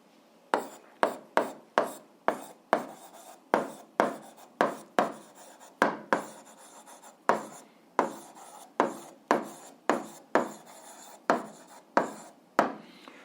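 Pen or chalk strokes writing out an eighth-grade algebra solution scratch in short, regular bursts, about two dozen distinct strokes with brief pauses between, close and clear with no talking.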